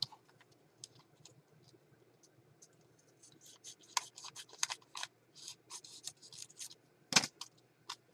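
Scissors cutting a sheet of paper in half during a mixed-media craft session: faint, close snips that build into a quicker run of crisp cuts, ending in a sharp final snap.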